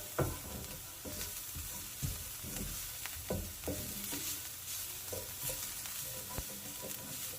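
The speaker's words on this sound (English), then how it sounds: "I don't want to burn the garlic, so I'm just going to saute quickly." Finely minced garlic and pepper flakes sauté in a pan, with a steady sizzle under repeated scraping strokes of a utensil stirring the mixture, close and without speech.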